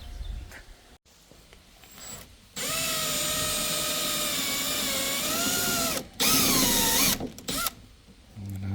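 A power drill bores into the metal body of a Nissan 350Z while a spoiler is fitted, running loud and steady for about three and a half seconds, pausing briefly, then revving in short bursts, with no talk over it.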